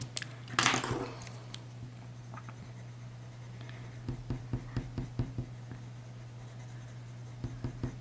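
Coloured pencil strokes on paper while drawing a bumblebee, a soft scratchy scribbling with clustered short strokes, loudest near the start, then lighter intermittent taps and strokes over a steady low hum.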